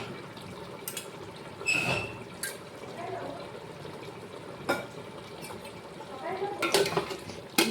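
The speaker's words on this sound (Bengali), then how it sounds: "দই দিয়ে আর একটু ভালো করে নাড়িয়ে নেবো, ভালো করে কষা নেবো।" Chicken cooking with yogurt in a pot for chicken biryani, stirred with a spoon that gives wet squelches, scrapes and occasional metallic clinks against the pot, moderately close, with a voice speaking at times.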